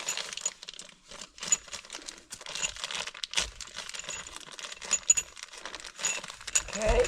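Crinkling plastic rustles and small hard parts clink as someone rummages through a bag, close and uneven, with faint talk in the background.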